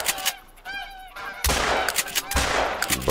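Geese honk loudly in the Hirschfelden reserve of the hunting game theHunter Call of the Wild, with layered cries early on, then sharp shotgun blasts and noisy bursts covering the rest.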